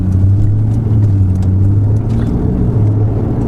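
A Ferrari 488 GTB cruises in sixth gear at low speed, its engine giving a steady, loud, low drone with road noise and no revving.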